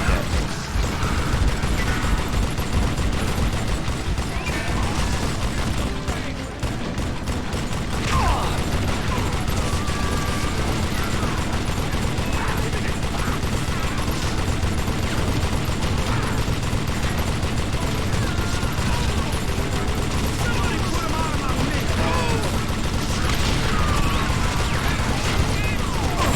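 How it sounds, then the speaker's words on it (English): Dense, constant din of Wild West gunfire and mechanical clatter from Call of Juarez: Gunslinger, enemies shooting steadily throughout with no clear pause, loud and close. "This guy is shooting at me."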